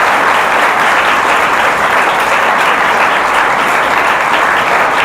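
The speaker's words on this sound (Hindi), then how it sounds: "जोरदार तालियां।" Loud applause from an audience honouring a woman at a ceremony, a dense, steady roar of clapping that holds evenly from start to finish with no voices.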